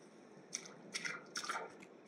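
Water dripping in the Alien Abduction game, a few quiet, separate plinking drops in an irregular rhythm against a faint, hushed background.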